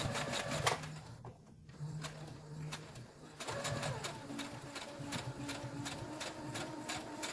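A sewing machine stitches a cotton face mask in rapid needle bursts, close and steady, with a brief pause before the run resumes.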